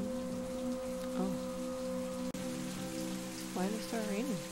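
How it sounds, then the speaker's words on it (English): Steady rain falls across the surface in the video game The Path, a constant hiss with a low ambient drone and a few faint tonal chirps, no talking. "Why did it start raining?"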